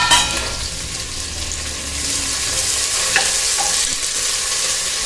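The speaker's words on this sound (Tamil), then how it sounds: "2 வெங்காயத்தை ஆட் பண்ணிக்கிறேன்." Two onions frying in a pan with cardamom for a coconut milk biryani, producing a strong continuous sizzle up close that briefly swells when they go in, with occasional light stirring taps.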